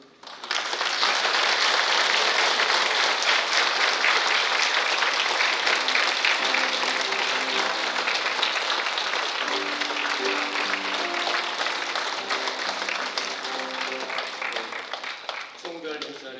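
A Catholic church congregation gives a long, warm ovation as a priest is called to the altar for his farewell, a dense, loud burst of clapping that swells quickly and then slowly thins, with a few voices faintly audible underneath.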